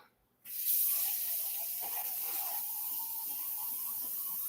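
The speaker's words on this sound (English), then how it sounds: "So let me rinse this out." Water from a kitchen tap gushes into a container as it is rinsed out, a sudden hissing rush starting after a brief quiet and continuing steadily, close and loud.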